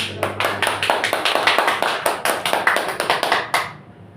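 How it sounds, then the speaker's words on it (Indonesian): Classroom applause during a microteaching practice session, a small group clapping in a quick, distinct rhythm at close range for about three and a half seconds before it stops abruptly. "Berikan tepuk tangan ke depan"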